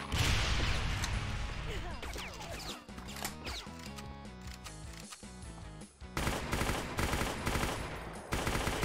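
Submachine gun fire in Brutal Doom, rapid rattling bursts over driving game music, loudest in dense volleys toward the end.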